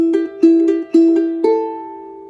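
A charango plays the continuation phrase of Virgenes del Sol, quick plucked repeated notes in a bouncy rhythm ending on a sustained ringing note, bright and close with no voices.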